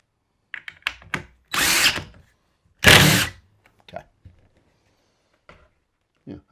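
A power drill drives screws slowly into pre-drilled wood in two strong bursts of whirring, each about a second long, with scattered knocks and handling clicks between them and silence after.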